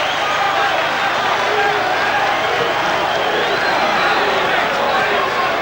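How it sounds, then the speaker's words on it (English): A boxing crowd at the Barry McGuigan versus Steve Cruz fight stands and applauds as the boxers come out for the last round, a dense, continuous roar of clapping and cheering filling the arena throughout. "The whole crowd standing and applauding."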